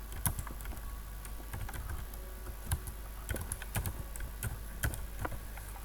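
Fingers tap out a folder name on a computer keyboard, a quiet, irregular patter of light clicks close by over a low steady hum, with no voices.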